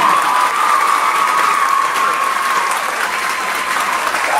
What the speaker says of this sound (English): Could you please give them a round of applause again?